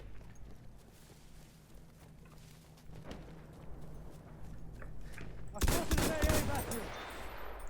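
An anti-aircraft gun in Battlefield 1 fires in the distance under low rumble and faint talk, then a loud, rapid volley of shots bursts in close near the end.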